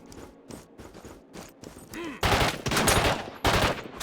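Burst-fire gunshots in the video game 33 Days Till Extraction: first light rapid clicks and shots, then several loud dense bursts of gunfire in quick succession, up close.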